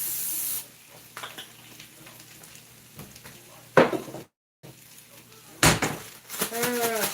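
Cooking spray hisses onto a pan in a home kitchen, one long burst at the start and a couple of shorter sharp sprays later, with clattering of cookware and a voice talking in between.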